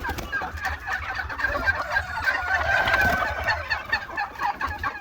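Several 7–8 month old turkeys gobble continuously in a close, overlapping chorus at a farm in Chelak, Samarkand region.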